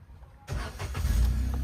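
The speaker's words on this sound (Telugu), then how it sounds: "కార్ అయితే పెట్రోల్లో స్టార్ట్ అవుతుంది." A 2021 Maruti WagonR LXI with a CNG and petrol setup cranks and starts on petrol after a brief quiet moment, then settles into a close, steady low idle.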